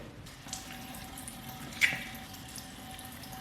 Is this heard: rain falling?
no